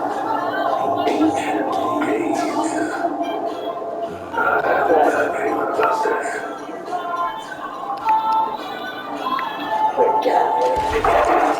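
A dog's yips and barks come in short bursts among excited talking and busy household noise, fairly close and loud throughout.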